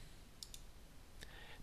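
Mouse clicks in Sibelius music notation software while selecting a bar: a quick pair of faint, close clicks early on, then one more single click, over a quiet room hiss.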